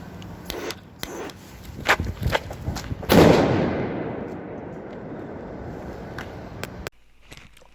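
A zirpaket firecracker bursts on New Year's Eve with a loud crack after a few sharp pops, then a long hissing crackle that fades before cutting off.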